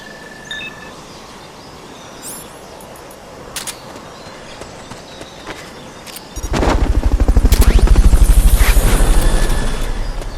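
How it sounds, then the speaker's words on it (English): Fulton recovery helicopter in Metal Gear Solid: Peace Walker arrives after quiet game ambience, its rotor beating in a loud, rapid, steady low chop that swells and then eases slightly. "Fulton recovery helicopter is complete."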